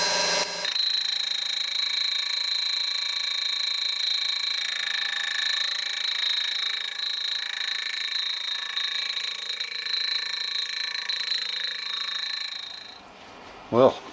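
A grinding disc is lowered onto the table of a homemade milling machine to straighten it. It gives a steady, piercing high whine that holds for about twelve seconds before cutting off abruptly.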